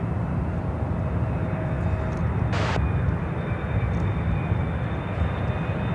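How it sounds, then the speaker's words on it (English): A Boeing 777 freighter arriving from Anchorage at Chicago O'Hare gives a continuous loud, broad engine roar that holds steady throughout, with a brief hiss partway through and no talk. "coming in from Anchorage on the 777 freighter"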